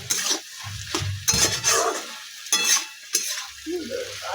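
Curry of fish roe, potato, snake gourd and okra frying and being stirred in a pan, with a steady sizzle broken by several louder scraping stir strokes and clinks of a utensil against the pot, close by.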